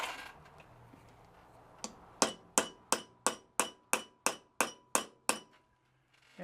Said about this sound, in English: Let me hammer this guy down here so you can see how much it's sticking proud before.